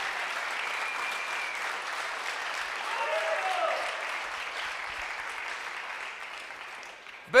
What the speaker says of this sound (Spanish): Podemos darle un fuerte aplauso a nuestro Padre Dios.